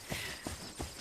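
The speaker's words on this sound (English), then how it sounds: "I'm just trotting with my horse" Horse hooves trotting in The Legend of Khiimori, three evenly spaced, soft thuds close by, each with a short scuffing clop, with no other sound.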